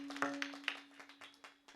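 An audience at a devotional kirtan claps for a mridang player, producing a sparse run of distinct, separate claps over a steady low hum.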